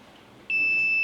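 A gas sensor alarm switches on as gas is applied, a sudden steady high-pitched electronic tone that holds continuously after a short quiet lead-in, close and fairly loud.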